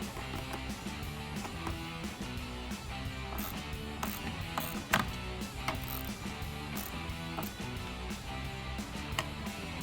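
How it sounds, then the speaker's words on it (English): Hand ratchet with a 10mm socket tightening the negative battery cable on a Jeep Wrangler JK, giving a steady close run of rapid mechanical clicking with a few sharper knocks and no talking. "we'll tighten that down with our 10mm socket as well"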